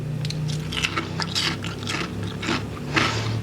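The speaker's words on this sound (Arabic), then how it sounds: "تعالوا بقى نسمع كده مع بعض القرمشه." Crisp, crackly crunching of fried balah el sham pastry being bitten and chewed, several bursts close up with no talking.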